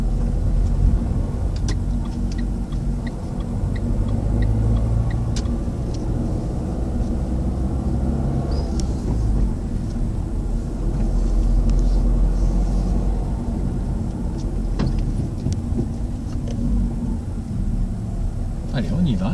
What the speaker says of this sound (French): On laisse la voiture aller.